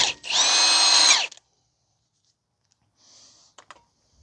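An impact wrench loosens a rear wheel lug nut on a 2019 Subaru Forester 2.5 in one short, loud whirring burst of about a second. Quiet follows, then a few faint clicks and taps.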